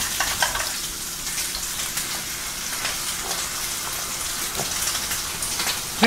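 Garlic and green onion stir-fry in olive oil in a frying pan over high heat, giving a steady crackling sizzle with scattered sharp pops throughout, fairly close and with no voices.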